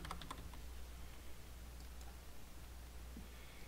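Fingers typing a name on a computer keyboard, a quick cluster of clicking keystrokes near the start, then sparse taps over a steady low hum and background hiss.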